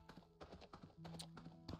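Hooves clip-clop in a steady, moderately close rhythm as a horse is ridden in a video game, with faint background sounds and no talking.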